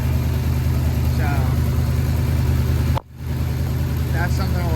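A car engine idles steadily with a bad exhaust leak, giving a continuous low, rhythmic putter close by, with brief voices over it and a short cut partway through.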